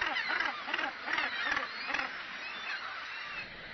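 Crowded gannet nesting colony full of squabbling seabirds, a dense overlapping chorus of harsh, rhythmic honking calls, fairly faint and continuous throughout.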